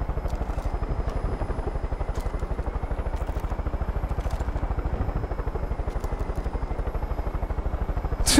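A battle helicopter in Far Cry 5 gives a steady, rapid rotor thump with a loud, unbroken chopping pulse throughout, joined by faint crackles and clatter near the end.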